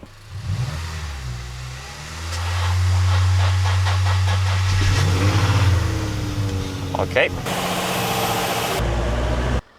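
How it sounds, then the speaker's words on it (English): A Nissan 350Z engine fires up and revs, its loud low rumble swelling after two seconds and holding steady with hissy bursts near the end, while a person speaks briefly over it. "This car can be fired up currently."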